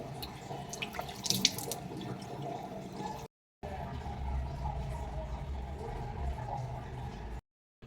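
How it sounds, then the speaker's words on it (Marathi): Running tap water and splashing as a homemade sun-tan removal face mask is washed off the face at a sink, steady close flow with brief drips, cut by two short silent gaps. "चांगला मसाज करून ह्याला आता आपण धुवून घेऊ फेसला"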